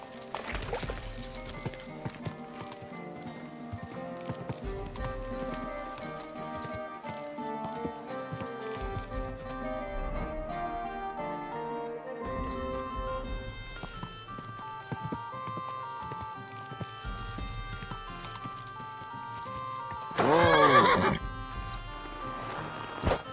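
Hoofbeats clip-clop from a horse in Kingdom Come Deliverance II over steady medieval game music, with a loud whinny rising near the end.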